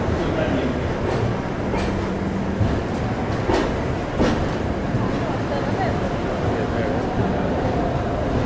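The Visakha Express rolls into platform 8, a loud steady rumble of rail noise with occasional clanks and squeals, and station chatter mixed in.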